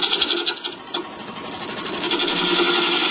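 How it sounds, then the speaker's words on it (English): A bowl gouge cuts into a wooden bowl blank spinning on a lathe, making a loud, close, steady rasping whir with rapid rhythmic pulses that thicken as the cut deepens. "I'll just run in there with the bowl gouge"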